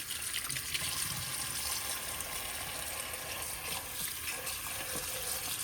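Tap water runs steadily in a home kitchen while chicken is washed, a soft continuous splashing trickle with faint handling sounds and no talk.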